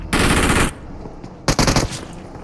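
An MG3 machine gun in PUBG Mobile fires two loud, close bursts of rapid automatic shots, the first longer, the second shorter after a brief pause.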